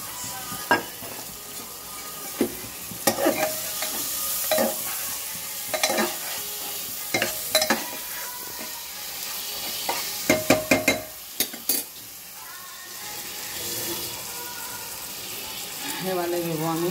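Oil sizzles steadily in a pan for lentil dal with bottle gourd, with frequent scraping stirs and clinks of a spoon against the pan, close and fairly loud.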